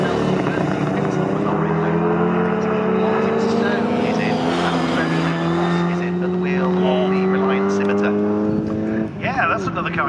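Classic race cars in a CSCC K Series race at Snetterton, including a Jaguar E-type, roar past with sustained engine drone and rising pitch as they accelerate down the straight, with commentary talk over the top.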